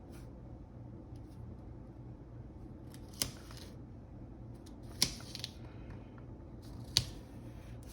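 Scissors cut washi tape with three sharp, close snips spaced a couple of seconds apart over a quiet background hum.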